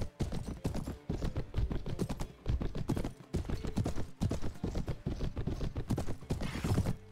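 Horse hooves clip-clopping in the A World of Ice and Fire Warband mod, a steady rhythmic gallop of close, loud beats, with clanking gear and faint battle noise behind.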